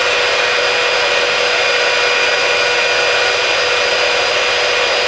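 A heat gun blows hot air onto heat transfer vinyl with a loud, constant, close-up roaring whoosh and a faint steady whine, unbroken the whole time.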